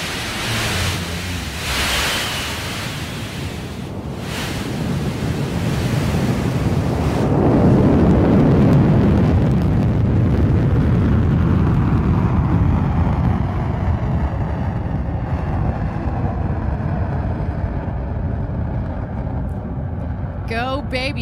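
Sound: New Shepard rocket BE-3 engine roaring at liftoff

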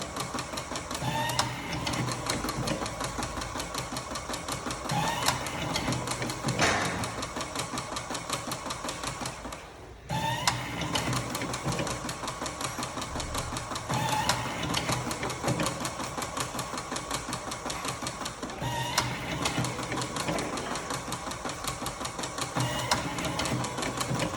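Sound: cigarette rolling machine running

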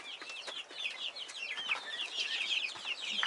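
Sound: Legbar chickens and rooster clucking

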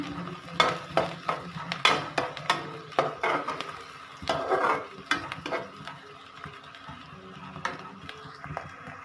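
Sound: stirring potato and eggplant curry in a pan

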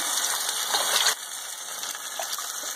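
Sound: water poured into a pot of passata tomato sauce

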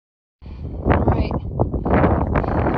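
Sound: wind on a mountain summit at night

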